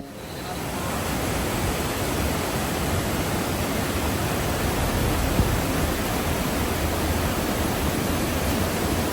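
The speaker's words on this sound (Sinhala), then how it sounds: "ඊළඟට අපිට හම්බුනේ රම්බොඩ ඇල්ල" Ramboda waterfall near Nuwara Eliya, Sri Lanka, rushing in a dense, constant roar of falling water heard close by, steady and loud for the whole stretch with no voices.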